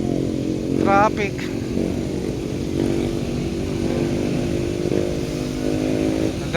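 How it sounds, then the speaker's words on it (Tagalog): Philippine street traffic with motorcycle engines droning steadily nearby, a brief horn or siren-like warble early on, and faint voices mixed into the noise. "Traffic."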